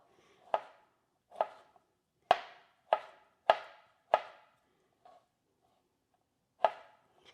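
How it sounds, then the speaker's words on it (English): A knife chops through jackfruit in a series of crisp, close strikes, several in a quick irregular run, then a pause and one more firm chop. "So I guess I'll just chop it up a little."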